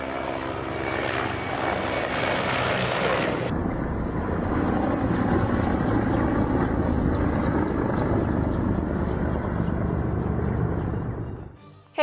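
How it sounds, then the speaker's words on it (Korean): Two Ukrainian army Mi-24 attack helicopters fly low over the Russian border near Belgorod, their engines and rotors a loud, steady roar that fills the whole stretch before cutting off abruptly. "우크라이나군 소속으로 보이는 군용 헬기 2기가 러시아 벨고로드 지역 석유 저장고를 폭격하고 돌아가는 영상이 공개돼 화제입니다"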